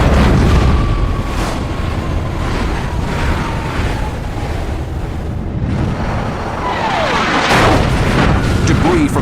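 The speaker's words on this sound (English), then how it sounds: "the explosion takes down the MiG's wingman" Missile explosion downing a MiG-17 wingman in aerial combat, a heavy continuous rumbling roar with booming surges and a rising whine near the end, loud throughout.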